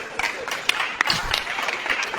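Scattered applause from people at a community meeting with an official, a fairly soft patter of uneven clapping with a few sharper claps standing out, heard from a short distance.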